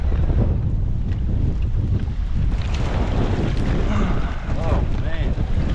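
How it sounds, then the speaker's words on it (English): Strong squall wind buffets a fishing boat on open water, a loud continuous roar and microphone rumble with rushing water beneath, close and unbroken, with faint voices underneath. "Dude, that wind got crazy."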